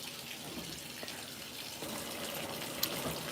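LG WT5480CW top-load washing machine filling with water at an increased level for softener, a steady broadband rush of running water held throughout at moderate loudness, with a small knock near the end.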